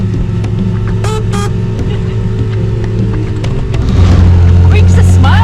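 Peel P50, a tiny single-seat microcar, driving at the top of a tower, with a steady low engine drone that swells into a louder hum near the end while a voice talks over it.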